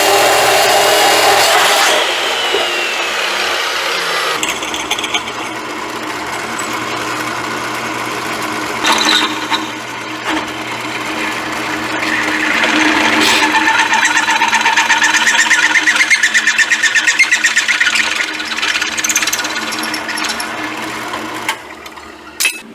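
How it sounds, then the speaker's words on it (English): A power saw cuts square steel tubing to length, a loud continuous grinding whine that rises and falls over a long stretch, with short pauses and a steady motor hum underneath. "I'm just going to cut it to length, and I got to drill 5/8 hole all the way through it"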